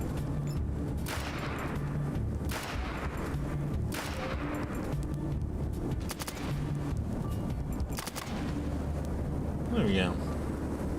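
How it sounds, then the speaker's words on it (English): In the PC role-playing game ATOM RPG Trudograd, ranged-weapon gunfire bursts out repeatedly in sharp volleys every second or two over steady game noise, while someone talks throughout. "So I'm just killing everybody with a ranged weapon."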